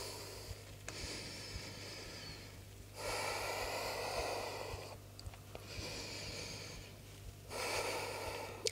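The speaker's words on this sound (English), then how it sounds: "take a few deep breaths here" Slow deep breaths during a vinyasa yoga flow, long airy inhales and exhales alternating in a steady rhythm with short pauses, close and soft, no talking.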